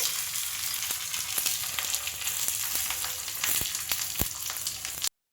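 Mustard seeds, urad dal and chana dal sizzle in hot oil for a curd pachadi, a steady close hiss broken by sharp, irregular pops and crackles as the seeds burst.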